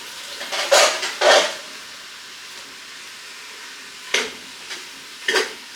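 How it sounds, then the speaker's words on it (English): Garlic shrimp and asparagus are stirred in a pan, two quick scraping bursts up front and two more near the end, separated by a quiet sizzling lull, close and without speech. "Stir it around here."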